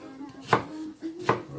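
A knife cuts peeled onions into wedges on a board, with two sharp, close chops about a second apart in a quiet kitchen.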